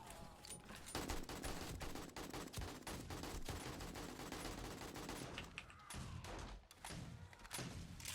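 Automatic turrets in the survival game 7 Days to Die fire long, dense rattling bursts with heavy thuds, nearly continuous before breaking into scattered shots near the end.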